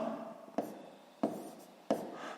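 Pen or pencil writing by hand on paper during a sixth-grade math exercise, three crisp taps of the tip against the page amid soft scratching, close and quiet, no voice.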